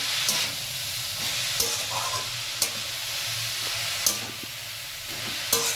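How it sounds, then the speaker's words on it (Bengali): Beetroot and green peas fry in a pan under a continuous loud sizzle, with a spoon scraping and knocking at regular intervals as the vegetables are stirred. "এবার দেখো মটরশুঁটি বিটটা ভালো করে একটু নাড়িয়ে চাড়িয়ে নিচ্ছি"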